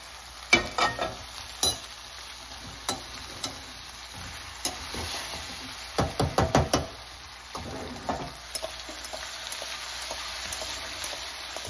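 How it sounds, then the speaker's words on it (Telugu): Okra pieces frying in a pan for a quick curry, a quiet steady sizzle broken by sharp scraping clicks of a spoon stirring, with a cluster of rapid stirring strokes midway and no talking. "ఇప్పుడు ఈ బెండకాయ ముక్కలు వేస్తున్నాను."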